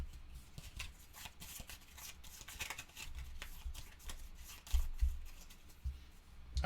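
Fallout board game cards shuffled by hand, close and quiet, with a steady run of soft riffling and rubbing strokes and a few louder snaps near the end.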